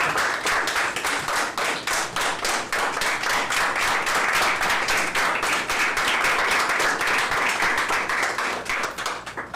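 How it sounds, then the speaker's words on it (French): Sustained, loud audience applause fills a hall at an on-stage reading contest, with dense overlapping hand claps running without a break for nearly ten seconds. "maintenant nous pouvons applaudir"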